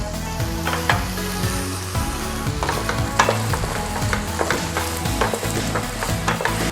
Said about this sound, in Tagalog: Just keep on stirring mga ka-wonders para hindi siya masunog sa ilalim.